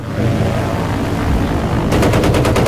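In the Battlefield 1943 video game, a dense wash of battlefield noise gives way to a rapid series of sharp gunshot cracks, loud and close, without any talk.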